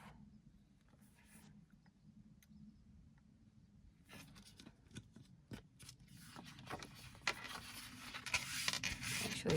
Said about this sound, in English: So now we've cut that bit out.